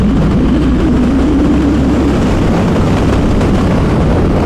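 A Triumph T100 Bonneville motorcycle with its high-torque engine revs up as the throttle is opened, a loud steady low engine roar that climbs in pitch and holds throughout, with no talking.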